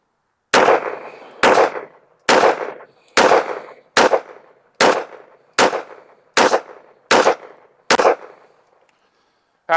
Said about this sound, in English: Let's shoot a 10-shot group at the top right.